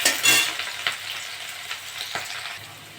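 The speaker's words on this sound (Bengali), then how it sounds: "পেঁয়াজটা একটু ভাজা ভাজা হয়ে গেছে" Onions and a few green chillies with whole five-spice seeds sizzle and fry in a pan, stirred with soft scraping strokes; a steady close crackle with a louder burst near the start, no talking.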